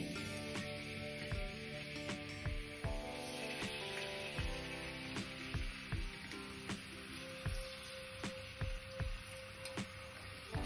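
Finely chopped onion sizzling in hot oil in a pan while being sautéed for homemade masala Maggi, a steady frying crackle with periodic sharp ticks and taps of stirring, close and continuous.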